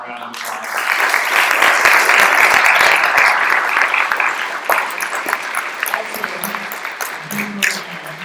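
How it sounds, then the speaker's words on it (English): Audience applause fills the room after a 2016 Berkeley mayoral candidate forum, a loud, steady wash of clapping that swells quickly and slowly thins out over several seconds. "give them all a round of applause"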